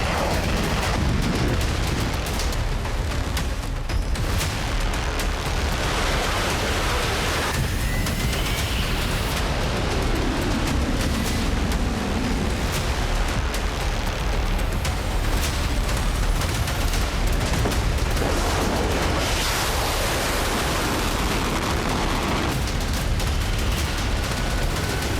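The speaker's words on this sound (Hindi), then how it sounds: "यूक्रेन के सबसे बड़े परमाणु प्लांट पर किसने बरसाया बम?" Bombs and artillery shelling strike around the Zaporizhzhia nuclear power plant in Ukraine during the Russia-Ukraine war, a loud, continuous barrage of dense rumbling blasts and crackling fire with no voices.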